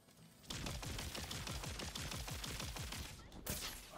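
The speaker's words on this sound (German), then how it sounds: "Mit dem Sniper zum Testen." Rapid gunfire in Tiny Tina's Wonderlands, a sniper rifle being tested: a dense burst of loud, closely spaced shots running for about three seconds, then a brief pause and a few more reports.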